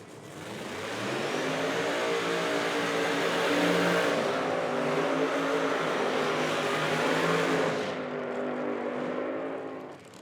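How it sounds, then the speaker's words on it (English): Drag racing cars at an IHRA Outlaw Nitro Series event fire up and rev hard through a burnout, a loud, sustained engine roar with rising and falling pitch that fills the whole stretch before easing near the end. "Cars are fired up."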